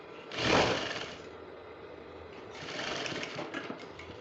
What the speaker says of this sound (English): So you also sew to that place that you notch and you stop.